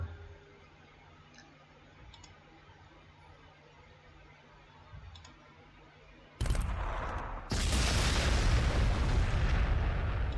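A missile team opens fire on a wall in Warhammer 40,000: Sanctus Reach, a quiet stretch broken by a sudden loud launch and a heavy, sustained blast roar that carries to the end.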